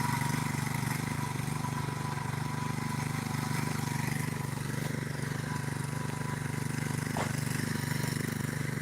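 A tractor engine runs steadily with a low, throbbing drone, close and unchanging throughout, with faint background noise.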